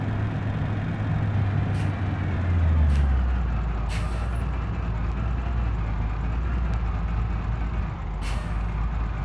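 A heavy hauling truck in BeamNG.drive brakes with a low engine drone and a deep falling rumble, while a few short air-brake hisses and clicks break in at intervals, loud and close.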